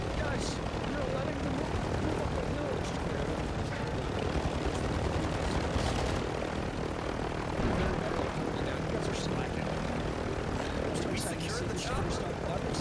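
In Call of Duty Warzone, a helicopter's rotor and engine drone steadily and loudly throughout, a dense, unbroken mechanical roar with occasional sharper game noises on top.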